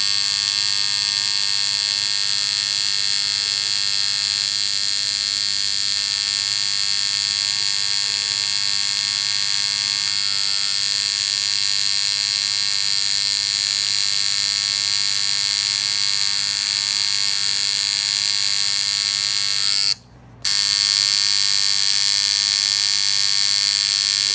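A tattoo machine buzzes steadily while its needle lines skin, a constant close electric drone with a faint hum beneath, broken only by one very short cut-out near the end.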